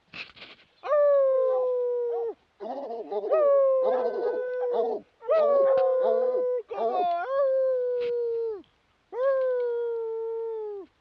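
Hunting dogs howl in long, drawn-out wails with a few short yelps mixed in. The howls come in four or five bursts separated by brief pauses and sound close by.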